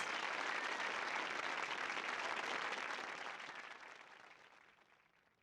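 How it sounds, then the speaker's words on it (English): Crowd applause from the video game Frog Detective 3: Corruption at Cowboy County, a dense, loud wash of clapping that holds steady for a few seconds and then fades out smoothly, with no talking. "Erupts in applause."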